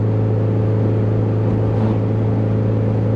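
A swapped car drives along with a steady, loud engine drone and low rumble throughout, a constant hum with a slight swell near the middle and no voices.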